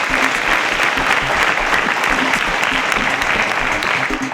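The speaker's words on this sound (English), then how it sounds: "A round of applause for them." Loud, sustained applause from a studio quiz-show audience, dense clapping filling the whole stretch without a break.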